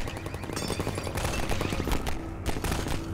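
Dense gunfire from the video game Half-Life 2 rattles in rapid bursts throughout, loud and continuous, mixed with other game sounds.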